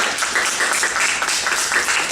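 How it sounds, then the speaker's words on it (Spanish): Audience applause at the close of a novel presentation, a steady patter of many hands clapping together in a room, fairly loud and unbroken, with no speech over it. "pido un aplauso para Osvaldo"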